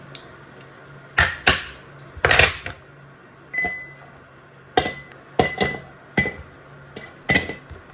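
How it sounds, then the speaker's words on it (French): Ice cubes dropped one after another into a glass while making a strawberry-syrup oat-milk matcha drink, giving a series of sharp, close clinks and clatters in irregular bursts with quiet gaps between. "Après ils mettent les glaçons."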